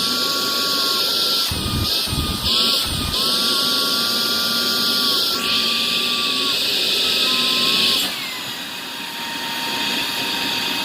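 A Kogan Z10 cordless stick vacuum cleaner runs at maximum suction, giving a loud, steady, high-pitched motor whine with brief dips in pitch as it is moved, then settling lower near the end.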